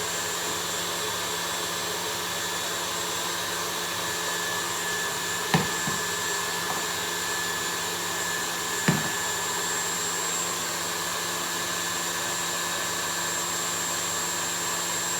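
A kitchen mixing machine whisks sugar into melindros batter, running as a loud, steady whirring drone throughout, broken by a couple of short clatters and no talk.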